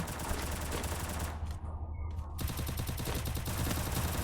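Rapid automatic gunfire from enemy players in an online mobile shooter match, dense bursts filling most of the clip with a brief drop-off in the middle, loud and continuous.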